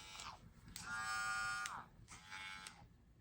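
A TPOB Play hair trimmer, a quiet model, buzzes in two steady runs of about a second and half a second, with a short flick of buzzing before them. Its thin, even hum is close up and plays alone.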